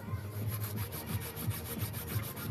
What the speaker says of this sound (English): I'm using a 100 grit file today. I'm going to file those sides nice and straight.